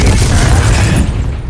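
A Confringo blast spell going off in Hogwarts Legacy, a loud, close, low booming burst that fills the short moment and fades slightly at the end.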